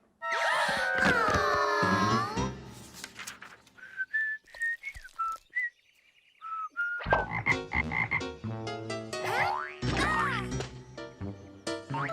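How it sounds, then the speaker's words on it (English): A cartoon frog croaks in a children's animated episode. Loud bursts of croaks sit among whistled tones and sliding musical notes, with short pauses between. "Recognize this frog."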